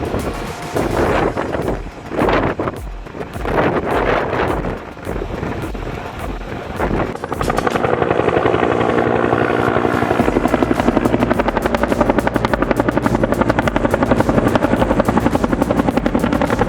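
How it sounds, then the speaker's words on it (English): A helicopter used for skyhooking timber logs in extreme alpine terrain, its rotor thumping loudly and steadily throughout and mixed with rough wind noise, with the pulsing growing denser and more constant in the second half. "Skyhooking timber. Helicopters redefine logging in extreme alpine terrain."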